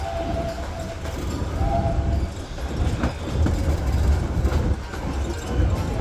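A Disneyland Railroad train rolls steadily along its track, with a loud continuous rumble, faint clickety-clack from the wheels and a brief high squeal near the start. No one speaks.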